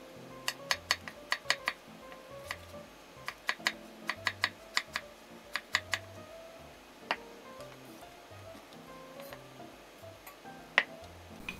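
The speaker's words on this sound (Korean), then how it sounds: "가지는 꼭지를 잘라내고 3등분으로 잘라주세요. 길쭉길쭉하게 3번에서 4번 정도 썰어주세요." A knife cuts an eggplant into long strips on a cutting board, sharp close taps arriving in quick bursts with brief pauses, fairly quiet and with no talk.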